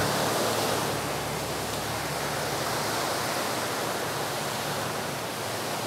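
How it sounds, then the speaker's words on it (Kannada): River water flowing beside a small forest bridge, a steady, dense rushing wash that stays loud and even throughout with no voices. "ಪಕ್ಕದಲ್ಲಿ ನದಿಯ ನೀರು ಕೂಡ ಹೋಗ್ತಾ ಇದೆ"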